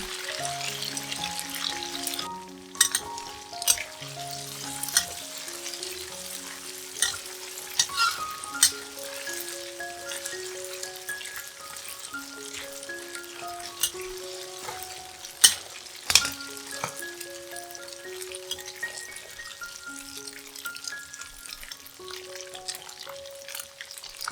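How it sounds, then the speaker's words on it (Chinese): Crumbled tofu deep-fries in a pan of oil, a soft continuous bubbling sizzle with occasional sharp crackles and utensil clinks, set under melodic background music. "将捏碎的豆腐倒入油锅里，炸至表面稍微有点金黄色后，捞起来放入碗里备用。"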